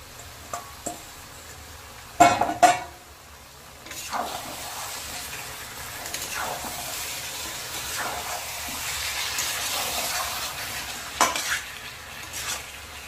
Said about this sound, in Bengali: এবার এতে আগে থেকে একটু ভেজে রাখা চিকেনগুলো দিয়ে দেব।